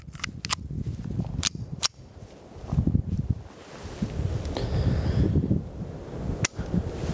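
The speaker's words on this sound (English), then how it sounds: "Now that we've got the Phoenix out here on the range, we're gonna shoot this 22." Phoenix Arms HP22A .22 pistol at an outdoor range, several sharp cracks spaced irregularly over steady wind noise and rustling.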